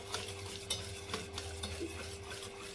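A spoon stirs eggless semolina sponge cake batter after white oil is added, giving a soft, wet, continuous scraping and swishing in a bowl with a few light clinks. No voices are heard.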